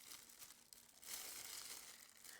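Continuous close crinkling of thin plastic sticker packaging, soft and busy, growing fuller in the second half with no speech.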